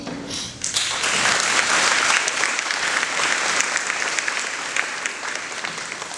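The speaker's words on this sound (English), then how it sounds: "Let's give her a round of applause and appreciation on her support and commitment to this wonderful event." Audience applause at a school Veterans Day event, a burst of steady, full clapping that begins abruptly and holds fairly even before easing slightly.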